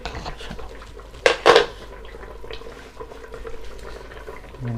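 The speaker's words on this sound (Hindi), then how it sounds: "अब हम अपना कुकर खोल के देखते हैं।" A couple of sharp metallic clanks from a pressure cooker lid being lifted off, close by, with faint kitchen clatter before and after.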